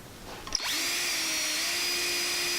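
Pinewood Derby axle nails spun in a power drill and polished with steel wool give a steady, close, high-pitched whirring whine that starts abruptly and runs without a break.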